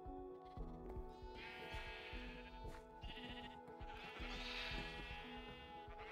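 Sheep in Minecraft bleat repeatedly in wavering, nasal calls, several overlapping at close range, clear and fairly quiet with no talk over them.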